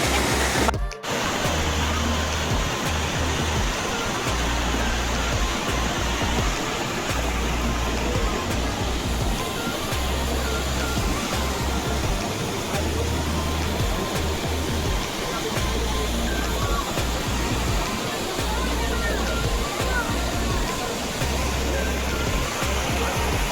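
Kapildhara waterfall pours in a steady, loud, continuous roar of rushing water that fills the scene close by, unbroken throughout with only faint hints of voices.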